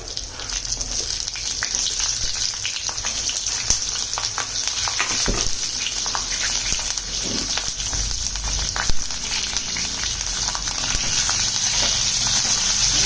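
Hing and green chillies frying in hot oil in a home kitchen, a steady close crackling sizzle with scattered pops and stirring scrapes throughout.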